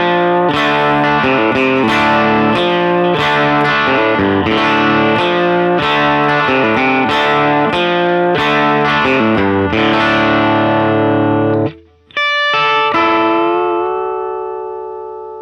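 An electric guitar played through a ToneShepherd Prosonic amp capture on TONEX chugs loud, distorted chords and riffs. It pauses briefly, then chiming harmonics ring out and decay.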